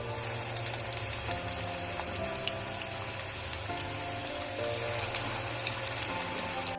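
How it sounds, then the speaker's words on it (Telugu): Mutton kheema balls deep frying in hot oil make a steady, dense sizzle with fine crackling pops throughout, close and continuous with no talk. "ఇంకా ఇలా డైరెక్ట్గా ఆయిల్లో ఫ్రై చేస్తున్నాను"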